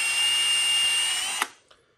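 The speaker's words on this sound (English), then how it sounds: "You're gonna drill into it." Power drill boring into a plastic scupper plug, a loud steady high whine for about 1.4 seconds that cuts off abruptly, followed by a faint brief click and quiet.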